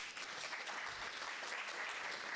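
Audience applause at an entrepreneurship competition final, a steady dense wash of clapping that holds loud and even throughout with no break.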